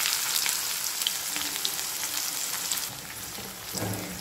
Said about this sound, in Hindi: प्याज भी फ्राई कर लेंगे।